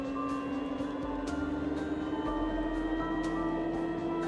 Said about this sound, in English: It sounds like a plane engine.